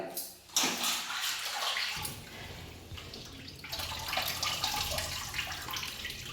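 Running water splashes and gurgles as pork meat is washed in a kitchen, a steady tap-like flow with sloshing bursts, fairly close, with a brief voice near the start.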